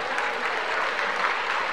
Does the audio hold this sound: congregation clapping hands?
yes